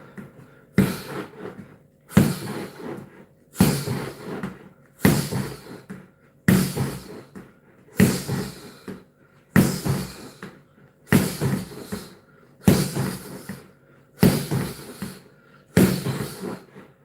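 A steady series of heavy, sharp punches hitting a training bag, about eleven blows evenly spaced roughly every one and a half seconds, close and loud.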